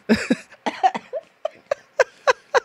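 A voice imitates a string of short coughs in varied tones, about a dozen sharp bursts in an uneven rhythm, close and clear against silence.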